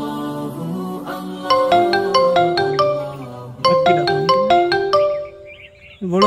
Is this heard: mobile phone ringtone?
yes